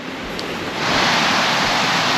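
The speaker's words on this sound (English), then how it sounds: "Well, that's the water that comes down, absolutely amazing." A waterfall on a Lake District hike near Wetherlam pours down in a loud, continuous broadband roar of rushing water that swells stronger after the first moment and holds steady, with no talking.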